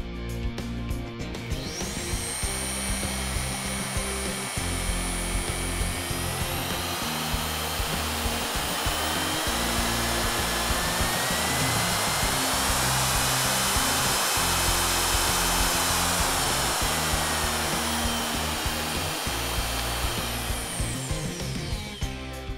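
A variable-speed electric drill with an electronic speed dial runs continuously at high speed, a loud, steady, close whine that holds throughout with no pauses and no voices.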